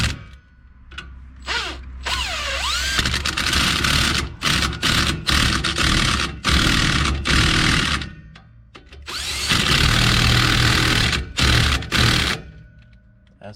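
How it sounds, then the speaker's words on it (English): An impact wrench tightens bolts on a Wells Cargo trailer in several loud close bursts of rattling, hammering whirr separated by brief pauses, with one long run near the end. "So we're gonna get our handy dandy impact."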